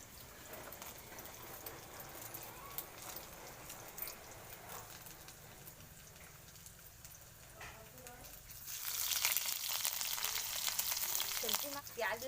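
Cumin, garlic and chopped green chillies fry in hot oil in a kadhai with a steady crackling sizzle that grows louder and brighter toward the end, with a voice talking over it.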